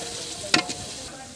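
Onions sizzling in a pan for chicken curry as a spoon stirs them, a steady hiss of frying with one sharp scrape and a softer second stir, close and alone.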